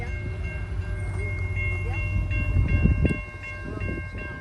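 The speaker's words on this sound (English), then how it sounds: "And we got the train coming." A train approaches near a concrete plant at the Sardinia wye, a steady low rumble building with wheel clatter and a repeating horn, loudest around midway and then easing slightly; no voices.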